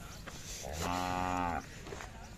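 A single drawn-out moo from Khillar cattle, fairly close and loud, lasting under a second against a steady outdoor background.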